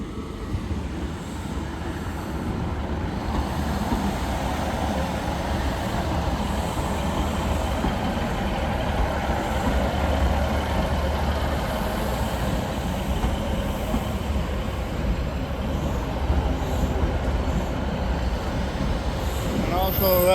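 Class 156 diesel unit 156491 pulling into Darlington station, a steady engine rumble and wheel noise filling the platform ambience for the whole stretch, fairly loud and continuous.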